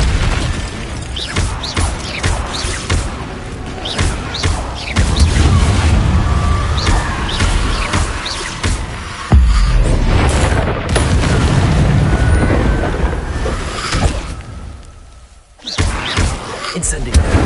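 Incendio fire spells in the wizarding game Hogwarts Legacy, played on PS5: repeated heavy booms and thuds burst out over a busy, roaring combat din, with talking mixed in and a brief near-silent gap before the noise resumes.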